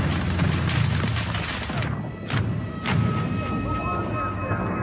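Mortar fire in an Escape from Tarkov game trailer: heavy booming blasts and rumbling explosions with dense crackling debris, then a brief lull with two sharp whooshing bursts before the rumble returns, loud and close.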